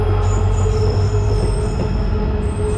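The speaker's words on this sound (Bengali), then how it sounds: "আর এই তো চলে এলো মুরকুং সেলেক রঙ্গিয়া এক্সপ্রেস।" The Murkongselek-Rangiya Express pulls in on a single-line track past a waiting train, with loud, close wheel squeal and a steady rumble of rolling railcars throughout, no voices.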